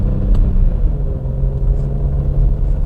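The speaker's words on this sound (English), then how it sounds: "Oh, those downshifts are good, man." An Audi S4 engine rumbles loudly and close up through downshifts, a steady deep drone with slight rises in revs and no speech.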